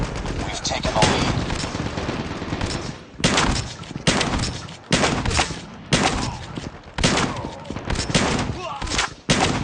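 Shotgun and pistol fire in a first-person shooter video game: loud, repeated bursts of gunshots in quick clusters separated by brief pauses, with faint in-game voices between the volleys.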